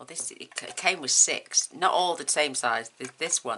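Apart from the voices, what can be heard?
No everyday noises stand out.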